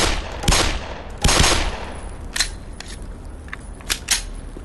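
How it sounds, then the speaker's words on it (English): Glock pistol fire in the video game Black Mesa: two loud sharp shots early, followed by a few fainter, more distant pops and clicks spread over the next few seconds. "I just love the new Glock sound with the guns"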